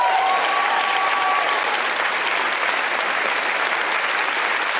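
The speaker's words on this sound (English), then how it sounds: "And then people clap." Steady, dense applause from an audience fills the whole stretch at an even level, with a faint tonal whistle or hum near the start and no talk over it.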